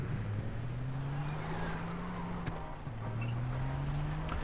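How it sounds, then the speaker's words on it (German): A car drives in the video game Far Cry 3, a steady engine drone that rises and dips in pitch as it shifts, heard fairly quietly with a few faint ticks and no talk over it. "Da ist ein Auto."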